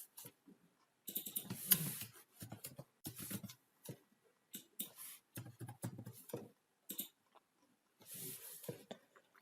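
Address details typed on a computer keyboard in quick irregular bursts of soft, close key clicks separated by short pauses.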